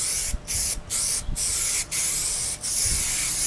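Several bursts of hissing aerosol paint spray from a can onto a motorcycle fairing, each separated by brief pauses, close and fairly loud; the nozzle sprays unevenly.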